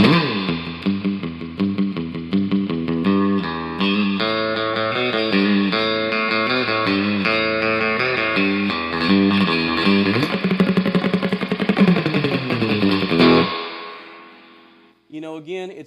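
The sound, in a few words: electric guitar through Lab Series L9 amp with reverb up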